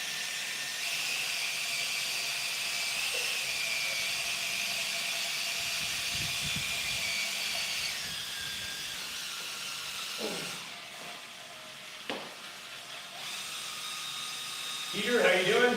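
A drill mixes epoxy for a garage floor coating, giving a steady high whirring hiss for about ten seconds before it stops, followed by a few knocks and brief rustling.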